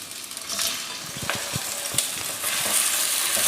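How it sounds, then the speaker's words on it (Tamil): Potatoes, peas and cauliflower fry in a little oil for aloo matar gobi sabji, with a steady sizzle and repeated spatula scrapes and knocks against the pan that grow a little louder toward the end. "ஒரே வாட்டி எல்லாமே நல்லா ஃப்ரை பண்ணி எடுத்துக்கலாம்."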